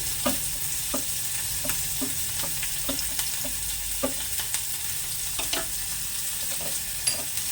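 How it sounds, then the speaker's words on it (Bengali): Chopped tomatoes and green chillies frying in a pan, a steady hiss of sizzling oil broken by regular light taps and scrapes of a spatula, close and even throughout, no voices. "তারপর দিয়ে দিচ্ছি কুচানো টমেটো, কেটে রাখা কাঁচা লঙ্কাগুলো দিয়ে দিচ্ছি,"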